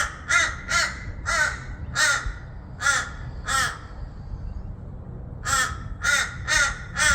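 Several crows caw in short repeated bursts, a cluster of calls at the start, a pause, then another run of caws near the end, fairly close and clear over a low background rumble.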